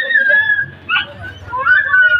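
A street dog whimpers and whines in high, drawn-out, wavering cries, close and loud, with a brief yip-like break in the middle.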